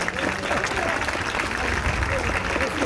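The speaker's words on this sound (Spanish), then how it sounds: "no podemos seguir aplaudiendo un poco más." Crowd applause at an official outdoor ceremony marking the anniversary of the May Revolution, sustained clapping from a gathered audience mixed with murmuring voices and crowd noise, fairly steady across the clip.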